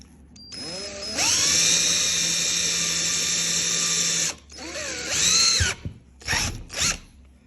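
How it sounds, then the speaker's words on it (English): Power drill boring quarter-inch holes, a long high-pitched whine as the bit spins up and cuts, followed by a shorter second run and a few quick bursts, loud and close. "And then we're going to drill a series of holes."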